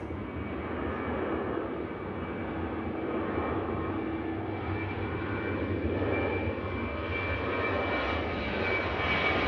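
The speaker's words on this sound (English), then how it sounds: "Ryanair blast on." A Ryanair jet airliner takes off at full power at Manchester Airport, a loud, continuous engine roar that stays steady and rises slightly, with no voices.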